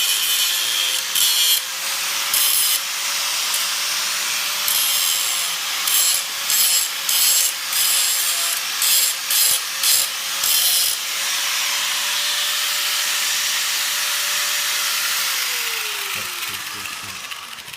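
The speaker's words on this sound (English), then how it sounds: "He's grinding and welding." Metal being ground with a power grinder during welding work: a loud, continuous abrasive whine that pulses in short rhythmic strokes through the middle, then eases off near the end.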